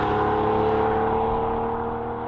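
A throaty air-cooled Porsche 911 (993) flat-six of around 280 horsepower drones steadily at close range through a modified exhaust, a gruff, raspy note holding a constant pitch with slight fading toward the end.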